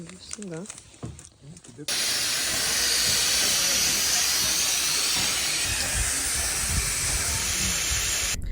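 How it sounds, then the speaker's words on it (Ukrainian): Inside a moving train carriage, steady loud rumbling and hissing rail noise fills the space after a short stretch of quieter speech at the start. "Коротше, ми вже пересіли в другий потяг."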